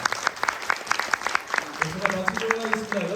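Audience applause at a Korean public event or screening, a steady patter of clapping hands throughout, with a voice briefly sounding over it toward the end.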